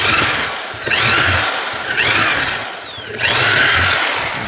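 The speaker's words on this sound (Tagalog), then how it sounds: "Ito ngayon sa barena at naka-drill mode tayo." A Bosch power drill in drill mode whines loudly in repeated bursts, its high-pitched motor speeding up and spinning down about three times, close to the microphone.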